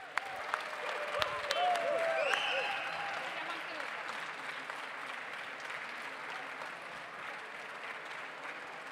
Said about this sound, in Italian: Un grande applauso ai vincitori!